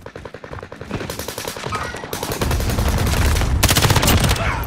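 Rapid machine-gun fire in Call of Duty Warzone, starting as steady mid-level bursts and swelling into heavier overlapping volleys of sharp reports, loud and close.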